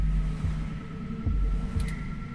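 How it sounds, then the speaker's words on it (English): Heartbeat sound effect in the video game 2064: Read Only Memories: a low, throbbing thump repeating at a steady pulse over a constant hum, with no voices. "Your heartbeat is like sonar to me."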